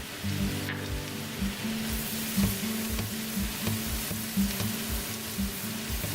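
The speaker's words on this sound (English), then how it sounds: "Now you see the garlic is cooking" Garlic sizzles steadily in butter in a pan, a close, continuous frying hiss broken by regular soft stirring scrapes throughout.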